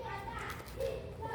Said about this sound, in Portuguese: Tem crianças brincando aqui embaixo, tá, gente? Então, barulho.